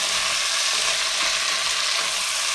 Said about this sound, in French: On va mettre le thym, le laurier et on va laisser mijoter 1 minute